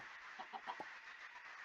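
Chicken clucking from the Minecraft modpack Ragnamod VII, a few short clucks in quick succession over a steady background hum of game ambience.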